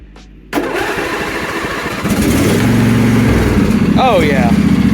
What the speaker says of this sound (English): we're going to see how the old mower actually cold starts